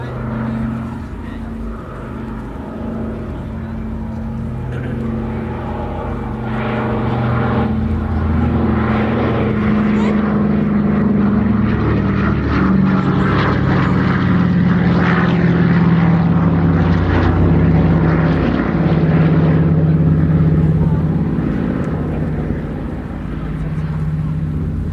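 Douglas Dakota propeller aircraft of the Battle of Britain Memorial Flight making a flypast with undercarriage down at an air show, a steady droning piston-engine hum that swells gradually over the whole stretch while a narrator talks over it.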